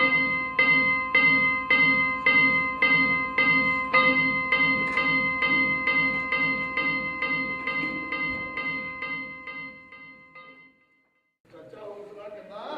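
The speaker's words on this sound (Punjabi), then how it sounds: "ਓਏ ਮਾਰ ਦੇ ਘੰਟੀ।" A hand bell rung during a stage play about the Gadar Party, staged in Calgary in 2013, clangs in a steady rhythm of about eighteen strokes, loud and close, before falling silent; a voice speaks briefly afterward.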